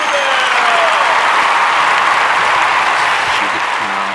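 Loud, dense crowd cheering and applause fills an arena as a pro hockey player in the SPHL is introduced, a steady roar of clapping and yelling without pause.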